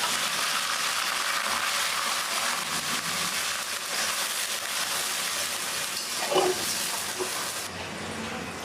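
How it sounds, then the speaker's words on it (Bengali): Water pours into a hot pan of browned onions, a steady broad hiss and gush that runs for several seconds before easing off near the end. "আমি এখন সামান্য পরিমাণ পানি দিয়ে দিলাম"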